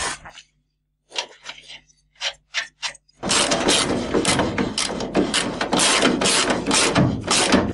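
Nut tightened on a Renault 4L front suspension: a few sparse ratchet clicks with short gaps, then a louder, continuous stretch of metallic working noise close by.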